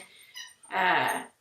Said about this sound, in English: I'm wondering if you can hear, Daxy's squeaky toy in the background.